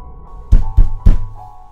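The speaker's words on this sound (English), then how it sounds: "there's a heavy pounding at the front door that almost makes me scream" Three heavy, booming thuds pound on a front door in quick succession, close and loud, followed by a low, quiet hum.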